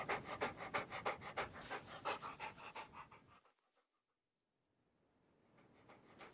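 A dog pants close by in quick, loud, rhythmic breaths that trail off into near silence, then faintly resume.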